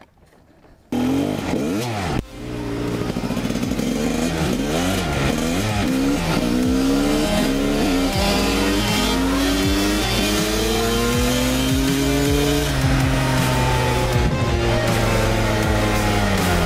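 A Honda CR 250 two-stroke dirt bike roars on the road, its engine loud and close, revving up and down through repeated gear changes for a long, unbroken stretch after a short quiet start.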